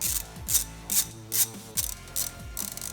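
A hand ratchet clicks in quick repeated bursts while backing out a 10mm bolt on a BMW M3/M4 during an SSR Performance dual aluminum intake install, the pawl chatter close and loud with short pauses between strokes.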